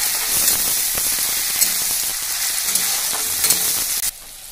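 Chopped tomato tossed into frying onions for pasta sauce sizzles loudly and steadily with crackling spits and a few soft scraping stirs, then drops to a quieter hiss near the end; no voices.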